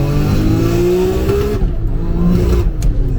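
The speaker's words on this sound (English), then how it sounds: "this engine's so responsive. You can just roll on." A Nissan Skyline GT-R engine rises in pitch as it accelerates hard, loud and close. Its drone climbs steadily and then drops away, with road and wind noise running underneath.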